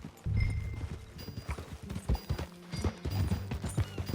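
Horse hooves clip-clop at a steady trot in Red Dead Redemption 2, close and fairly loud, with a low rumble underneath and no talking.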